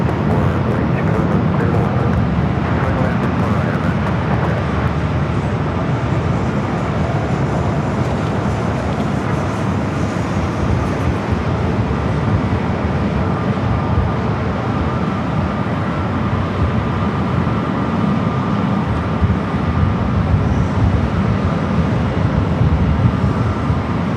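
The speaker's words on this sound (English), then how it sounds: "Goleta Air 747-400 freighter will be heading to the south side." A Boeing 747-400 freighter arrives at Los Angeles airport, its engines a constant deep rumbling roar that holds steady and loud throughout.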